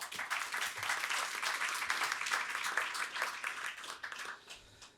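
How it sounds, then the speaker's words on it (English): An audience claps for panelists at a legislative preview forum, a moderate, continuous round of applause lasting a few seconds before fading out. "A round of applause for our panelists"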